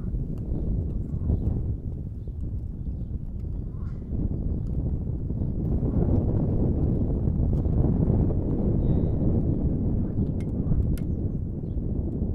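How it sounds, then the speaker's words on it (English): Steady outdoor wind roars as a dense, continuous low rumble buffeting the microphone, with a few faint distant bird calls above it. "the wind's getting up"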